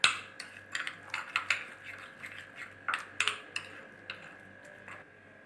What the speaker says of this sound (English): Now mix all these things together.